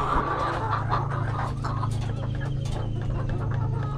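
A flock of around fifty chickens clucks and squawks close by on a farm after laying eggs, a steady busy chorus with a low constant hum underneath and no talking.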